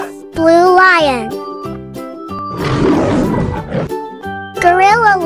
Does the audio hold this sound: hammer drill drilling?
no